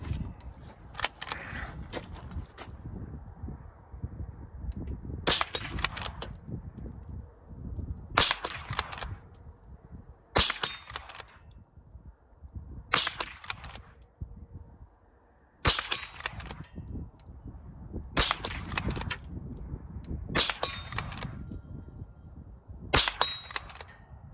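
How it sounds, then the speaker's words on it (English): A Winchester 9422 XTR .22 rifle fires offhand at small steel gongs 50 yards downrange, with about ten sharp, evenly spaced cracks, each followed by a faint metallic ring. "We're just going to take some shots offhand at 50 yards at the little steel gongs we have downrange."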